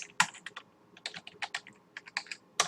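Computer keyboard typing in quick irregular bursts of crisp key clicks, close and fairly quiet, with brief pauses between runs of keystrokes and no voices.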